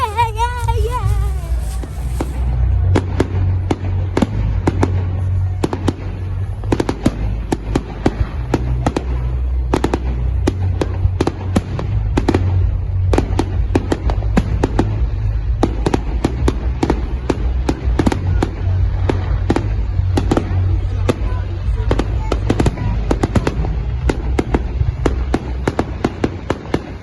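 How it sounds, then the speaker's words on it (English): A bonfire night fireworks display set off outdoors near a large bonfire during a family outing: dense, continuous crackling and popping bursts with sharp bangs, loud and sustained throughout, over a low rumble. "And hopefully we shall see some fireworks."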